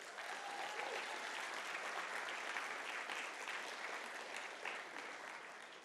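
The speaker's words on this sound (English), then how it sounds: "let's have a round of applause for that" Dense, steady applause from a large conference audience of emergency medicine clinicians, a continuous wash of many hands clapping together at even loudness for about six seconds.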